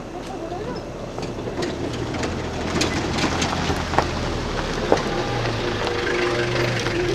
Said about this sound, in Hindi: इस समय बरसात हो रही है